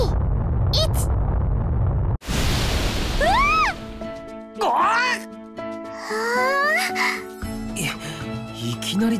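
Water bursts from the ground in the video game Sword Art Online Lost Song as a loud, rushing, rumbling gush, cut off abruptly, followed by gasping, moaning voices over a lingering musical tone.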